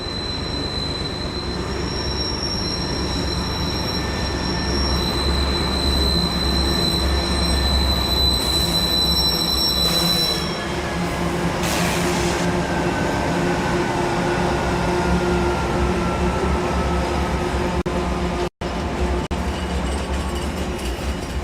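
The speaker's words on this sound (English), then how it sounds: "a westbound coal train heads down grade on the main track" Steel wheels squeal in long, high whines as a freight train grinds slowly through a siding at Rogers Pass, with a constant heavy rumble of rolling cars underneath.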